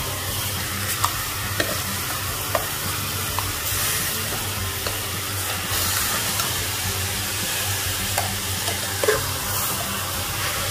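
Beef for nilagang baka seared in a small pot over high heat: a constant loud sizzle and hiss, broken by short scraping knocks of a spoon stirring the meat.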